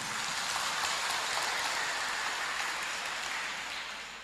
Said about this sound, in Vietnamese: Chúng ta đồng tràng pháo tay để chúc mừng.